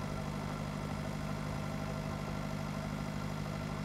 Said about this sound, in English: especially in a tractor that tops out around, well, when you're not going downhill, tops out around 17 or so miles per hour